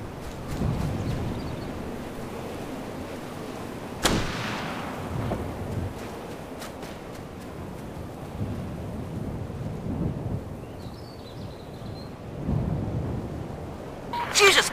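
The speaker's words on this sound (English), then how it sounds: "We need to do a controlled detonation." A controlled detonation rumbles in the military shooter Operation Flashpoint: Red River, a sharp blast followed by long low rolling booms and rumbling, with a few scattered cracks and a later burst near the end.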